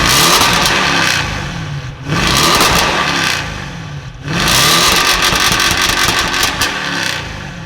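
An Audi RS7 with upgraded downpipes and a 4-inch exhaust revs hard and close, three long loud roaring pulls separated by brief dips as the throttle lifts.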